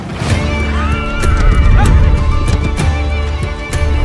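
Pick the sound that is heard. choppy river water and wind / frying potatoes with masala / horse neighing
horse neighing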